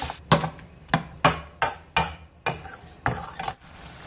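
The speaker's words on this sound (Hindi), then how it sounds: "पहले हम इसे मिक्स कर लें।" Spoon stirring chili sauce and sweet chili sauce together in a bowl, heard as about seven distinct knocking strokes at a steady rhythm, close and fairly loud, with no talk.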